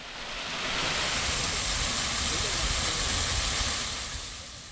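A cool waterfall in a mountain valley of the Sobaek range pours with a steady, broad rushing hiss that swells in and holds evenly, fairly close and unbroken.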